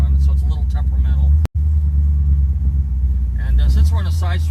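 A 1955 Mercury Montclair with an old castle-top carburetor rumbles in a low, steady idle, with voices talking over it and a brief dropout partway through.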